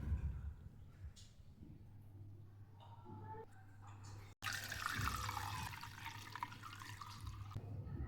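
Freshly made homemade ghee pours and trickles through a strainer, a soft liquid splash and patter close by over a steady low hum from a lit gas stove.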